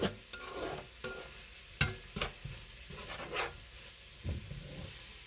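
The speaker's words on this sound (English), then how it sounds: "now I'm mixing everything all up together. The shrimp has been cooking nicely." Shrimp and vegetables stirred in a hot wok: a run of sharp scraping strokes at irregular intervals over a faint sizzle, close and without talk.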